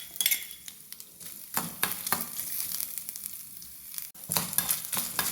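Small chopped coconut pieces frying in melted ghee, a bright continuous sizzle broken by repeated scraping stirs of a utensil against the pan, with no talking.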